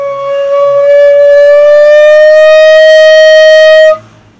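A single sustained shakuhachi flute note, loud and close, with rich harmonics whose pitch slides gradually upward over about four seconds before stopping abruptly, with no talking.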